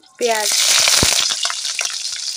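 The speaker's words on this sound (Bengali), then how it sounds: "এখন সম্বাসে তেলের মধ্যে দিয়ে দেব শুকনো মরিচ" Dried red chilies drop into hot oil with a sudden loud sizzle that holds steady and close, crackling on after a brief clink at the start.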